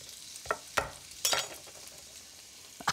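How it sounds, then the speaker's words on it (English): Shrimp cook in a pan for risotto, with a soft steady sizzle under a few sharp scrapes and clatters as the shrimp are moved around. Close and fairly quiet, with no talking. "Move your shrimp around. Make sure you don't overcook it."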